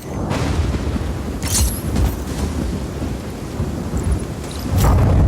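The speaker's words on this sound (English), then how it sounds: "you gotta move fast when that lightning's about to strike" Thunder rumbles during a lightning storm in Just Cause 4, a dense, loud roll with several sharper cracks breaking through, and rain-like noise running underneath the whole time.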